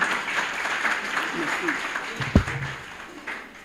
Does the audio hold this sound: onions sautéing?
no